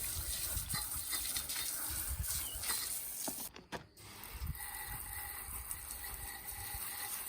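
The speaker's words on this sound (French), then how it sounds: "on arrose bien avec toujours pour éliminer toutes les mousses et pour qu'il n'y ait pas de traces" Garden hose spraying water to rinse foam off a Lancia Flavia saloon car, a steady close hiss of spray that briefly cuts out midway before resuming.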